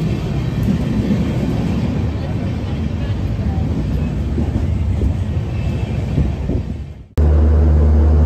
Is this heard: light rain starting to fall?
no